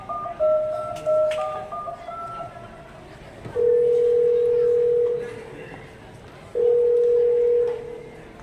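A telephone tone during a Marathi school annual-function skit: a sequence of steady electronic beeps, with longer held tones later, moderately loud over crowd murmur and chatter in a hall.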